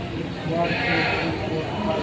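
A goat bleats at a goat market in the Philippines, a wavering mid-pitched cry rising briefly amid busy crowd chatter and people speaking nearby.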